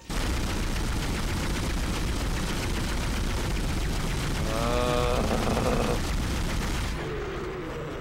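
A pulse rifle in the Dead Space video game fires in a sustained, dense automatic stream, loud and continuous, then cuts off near the end.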